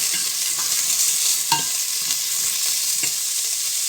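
Chopped onions frying in a small amount of oil in a pan, a constant close hiss with a few soft stirring taps and scrapes, no voices.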